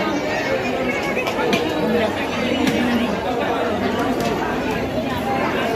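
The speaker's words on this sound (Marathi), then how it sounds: "गर्दी खूप झालेली आहे." A large crowd chatters steadily at a village temple festival for a goddess, a dense unbroken babble of many voices close around, with occasional brief clicks and knocks on top.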